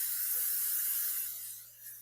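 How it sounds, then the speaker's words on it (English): A short steady hiss of canola cooking spray sprayed into a pan, close and fairly loud, tapering off after a second or so. "I'm going to put a little bit of cooking spray in it."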